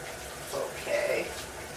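Running tap water splashing over hands as rice mask is rinsed off at a sink, a short soft gush that swells briefly and fades, heard close.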